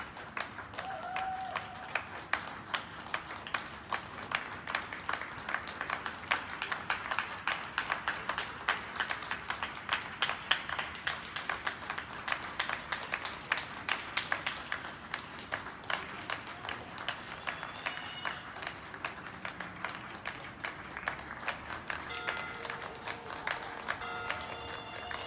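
In Plovdiv a crowd applauds the doctors, a sustained stretch of many hands clapping with sharp individual claps standing out and faint voices and other noises scattered underneath, heard from a moderate distance.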